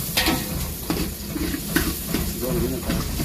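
Three chopped onions frying in a pan for an egg curry, with a steady sizzle broken by repeated scraping strokes of a spoon stirring, close and fairly loud, with a voice faintly heard in the background.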